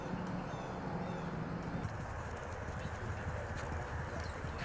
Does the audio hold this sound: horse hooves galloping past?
yes